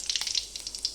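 Cumin seeds hitting hot oil in a wok give a brief, bright sizzle with quick crackling pops, close and alone.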